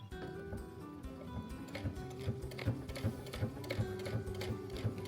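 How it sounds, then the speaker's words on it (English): A sewing machine stitches a fabric tote bag, a quiet, steady mechanical whir with a regular ticking needle rhythm running throughout. "I'm definitely getting better at the actual act of the sewing."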